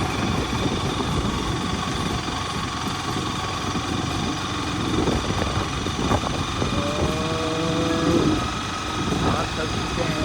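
Steady drone of a running motorcycle engine on a road trip in Rajasthan, loud and continuous throughout, with a voice speaking briefly over it.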